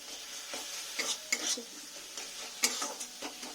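Chilli powder spice mix is stirred and fried in a pan, with a quiet background sizzle broken by intermittent scrapes and sharp utensil taps against the metal, close and fairly soft.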